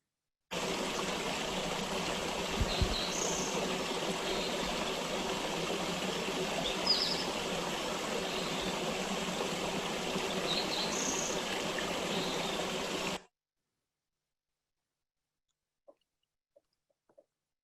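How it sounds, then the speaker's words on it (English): Running water of Harshaw Creek in Southeast Arizona flows in a steady, close wash of sound, with a spotted towhee's short song phrases repeating faintly in the background before the recording cuts to near silence. "a brief audio file I recorded here at Harshaw Creek of the beautiful and rather rare sound of running water in Southeast Arizona"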